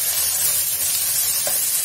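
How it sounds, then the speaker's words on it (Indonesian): Shrimp shells sauté in a little oil, giving a steady, bright sizzle with a brief scrape of stirring near the end, close and unbroken. "lalu ini tuang kulit udangnya, tumis dulu sampai dia kering agar baunya keluar."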